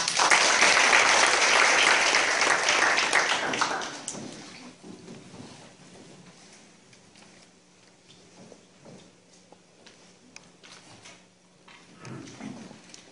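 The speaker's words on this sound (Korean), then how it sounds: "큰 박수 부탁드립니다" Audience applause for a team's presentation at a presentation contest, loud dense clapping for about four seconds that then fades to quiet room murmur.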